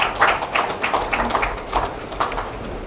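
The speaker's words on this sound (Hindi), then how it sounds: "साथियों, सभी आर्टिस्टों के लिए और अकादमी के लिए एक बार जोरदार तालियां।" Scattered hand claps from a small audience at a Jaipur fresco art camp talk, a loose, uneven patter of individual claps close by that fades after a few seconds.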